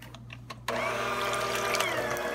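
An electric mixer whirs into life after a few quiet clicks and then runs at a steady, near hum as it blends cake batter of pudding cake mix, water and vegetable oil.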